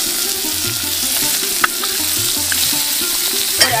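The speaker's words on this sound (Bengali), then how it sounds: "খোসা সমেত আলু আমি তেলে ভেজে নিচ্ছি" Potatoes with skins on, plus beetroot and carrot, fry in hot oil with a steady close sizzle, punctuated by a few clinks of a spoon stirring against the pan, no voices.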